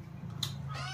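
A cat gives a single short, faint meow partway through, set against a quiet indoor background with a low hum.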